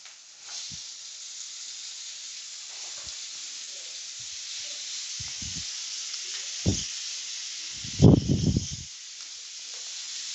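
Tomatoes hit a pan of fried ginger garlic paste, a steady hiss of sizzling oil running throughout with scattered soft knocks and a louder clatter near the end, close and alone without speech.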